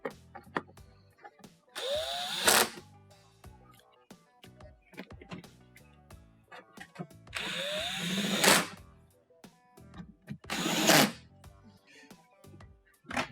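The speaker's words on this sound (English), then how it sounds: "Reinstall your screws in the side." Power drill driving screws into the side of a KitchenAid dishwasher, three short whirring bursts separated by quiet handling noises, close and fairly loud.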